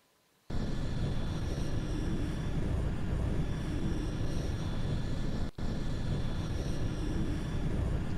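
Spaceship touching down at the Citadel in the Mass Effect video game: a loud, steady engine rumble and hum starts suddenly, holds, dips briefly, then continues.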